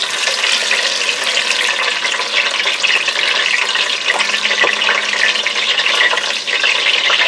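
Onions sizzle and fry steadily in hot oil for a smoked okra sauce, a constant loud crackling hiss with faint scraping of stirring and no voices.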